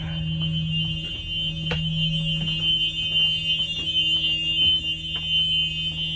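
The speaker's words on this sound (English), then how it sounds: "Emergency exit, light and buzzer, both working." A steady electronic buzzer tone from a school bus emergency exit drones continuously over a low hum, with faint clicks and taps scattered throughout.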